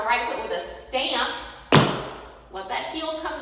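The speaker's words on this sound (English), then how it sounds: "We're going to finish on our right foot with a stamp." A single loud tap-dance stamp on the right foot, heel and toe striking the floor together, lands sharply amid a woman's instruction for a beginner waltz clog, with her voice talking before and after.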